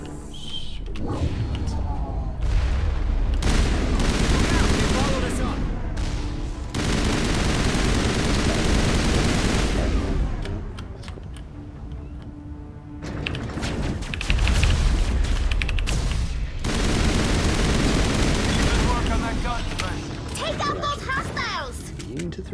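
Explosions and gunfire from the video game Mass Effect, with heavy booms and bursts of rapid fire in dense, loud stretches separated by short lulls.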